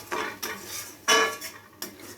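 Katla fish cooking in a poppy seed paste is stirred in a pan, with a spatula knocking and scraping against the metal in four distinct strokes that are close and clear, with no voices.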